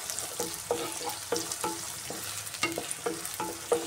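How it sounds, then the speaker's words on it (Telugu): Chopped onion sizzles in hot oil in a pan while being stirred, a steady frying hiss broken by repeated scraping strokes of the spoon, close up with no talk. "ఇలాగా ఒక 2-3 నిమిషాలు మనం ఫ్రై చేసుకుందామండి"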